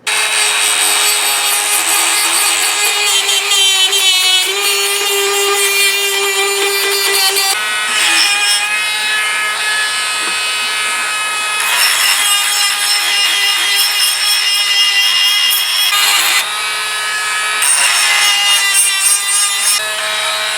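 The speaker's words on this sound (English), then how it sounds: "I'm going to end up sanding this area, getting it where it's nice and clean on both sides" A blade of O-1 tool steel for a handmade knife is sanded in a loud, continuous abrasive rasp with a faint ringing tone, the scraping surging and easing in long strokes.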